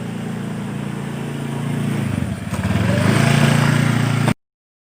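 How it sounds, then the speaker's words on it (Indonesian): A motorcycle engine drones steadily and close, growing louder and rougher toward the end before cutting off abruptly, with no voices over it. "tiba-tiba ada sebuah motor yang menabrak Rina"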